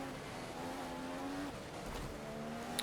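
An F1 race car in the F1 2015 video game enters the pit lane with a steady, fairly quiet engine drone whose pitch settles lower partway through.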